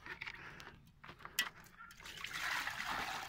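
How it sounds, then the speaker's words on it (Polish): Warm water poured into a rabbit's frozen water bowl on a farm: a soft trickle and splash of liquid, quiet and close, building into a steadier stream toward the end. "Ciepłej wody wlejemy temu urwisowi tu."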